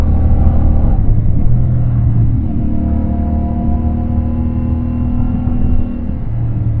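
A CFMoto 450MT motorcycle engine on a test ride, a loud continuous close-up drone with engine pitch rising and shifting during rev matching, no talking.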